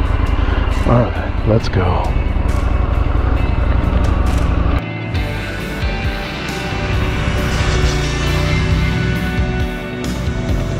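A stock 2020 Indian FTR 1200 motorcycle engine purrs close by with a steady, throbbing idle rumble, while someone speaks briefly over it near the start before the engine note shifts and carries on alone.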